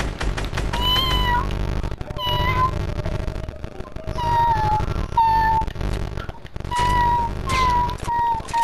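A person imitates a cat, letting out a rapid string of loud, whiny meows one after another, close to the listener, with nothing else audible in between.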